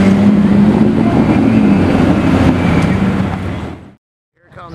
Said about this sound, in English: Here comes James and the 550 tribute